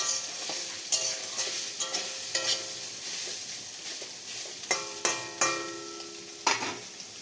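Soybean chunks frying in a wok in a home kitchen, a steady hiss of oil broken by several sharp scraping stirs and clinks of a spatula against the metal, close and fairly quiet, with no talk.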